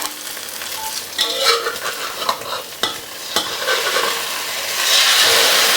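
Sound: basil omelette frying in oil

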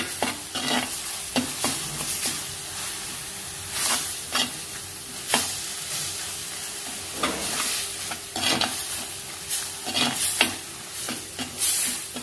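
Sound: stirring frying potatoes with dry red chillies

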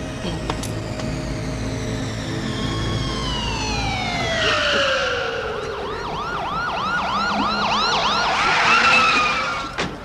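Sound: ambulance siren

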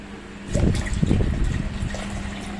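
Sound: water being poured into a soy milk maker

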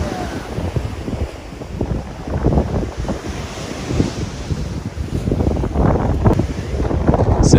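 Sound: strong wind and rough surf on a beach

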